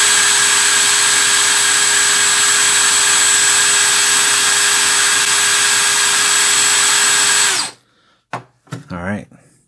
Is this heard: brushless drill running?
yes